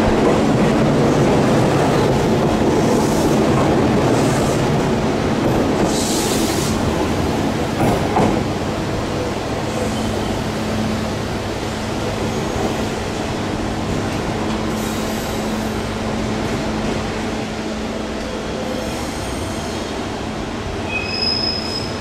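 A one-man electric train at Kagoshima-Chuo station rumbles along steadily, with wheel squeal and a few short high screeches over a constant drone and no talking.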